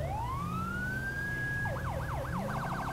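Federal Signal Delta police siren in Grand Theft Auto V (LSPDFR): a long rising wail levels off, then switches to a yelp that warbles faster and faster, loud and close over a steady engine drone.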